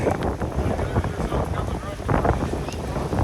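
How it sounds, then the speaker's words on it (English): Strong wind buffets the microphone with a dense roar and a steady hiss like rain, constant and loud through the whole stretch. "Oh yeah, it's getting super, super windy now. And here comes the rain."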